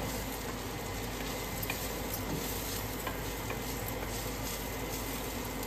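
Spices fry in a pan for stuffed brinjal curry, a steady close sizzle with faint occasional ticks, even and unbroken with no voices.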